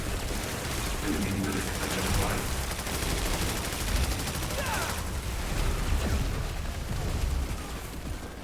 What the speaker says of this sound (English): I think I'm using my battle rifle